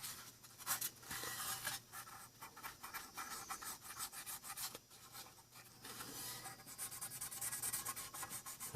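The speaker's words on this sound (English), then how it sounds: "You just want to try to clean off all the oil and grease that you can" Parts of a vintage 15-inch Lasko fan are wiped clean of oil and grease, a continuous quiet rubbing and scrubbing with fast repeated strokes, close by and without speech.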